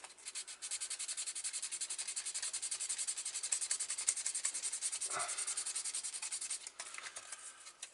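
Steady, close sanding of a Citroën DS 21 Pallas scale model kit by Ebbro: a continuous dry scratchy rasp of fast back-and-forth strokes that runs with no pause and then eases slightly near the end.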